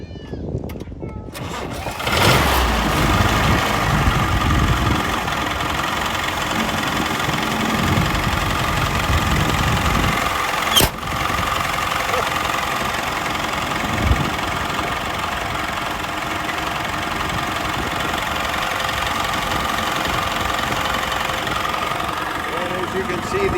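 A 1940 Bantam Speedster engine fires up and settles into a steady, moderately loud idle that carries on evenly, with one sharp knock partway through.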